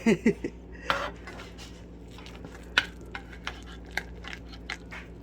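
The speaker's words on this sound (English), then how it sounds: "I'm going to cut into this one. Actually, it might be easier to use a spoon." A spoon scrapes and clinks against a baking dish while cutting into a homemade shepherd's pie, a few close light taps and scrapes over quiet kitchen background.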